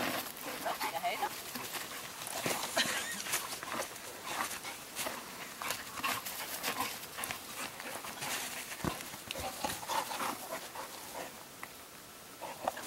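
A dog moves about and pants during an outdoor obedience training session, with shuffling steps and breathing close by under steady background noise and a trainer talking.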